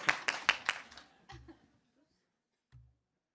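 Short burst of scattered audience clapping at a greenwashing quiz event, a few distinct claps close together, then fading into quiet with a faint laugh or two.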